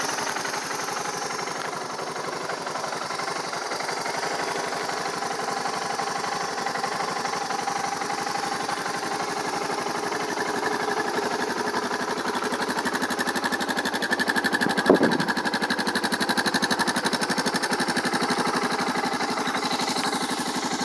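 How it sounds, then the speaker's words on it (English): A 2008 Suzuki DR650 motorcycle with stock exhaust idles steadily after a cold start, a quiet, even engine hum running unbroken throughout, with one brief louder blip near the end. "Engine's nice and quiet."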